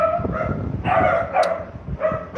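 A dog barks several times near a balcony, sharp yips and bow-wows in quick uneven bursts, close and fairly loud.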